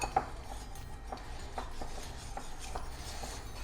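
A spoon mixing a batter of flour, salt and water in a bowl, with soft repeated scrapes and light clinks in a steady rhythm, close and fairly quiet.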